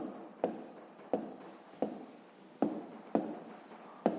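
A pen writes numbers in a row on paper: six quick, scratchy strokes, each starting with a sharp tap and trailing off, spaced roughly evenly and close to the microphone.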